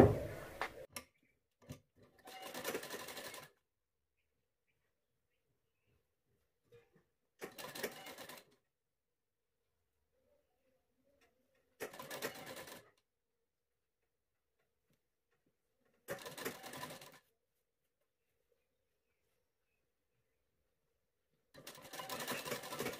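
A sewing machine stitches pleats into a blouse in short, rapid rattling bursts of a second or two, repeated about five times with quiet pauses between them.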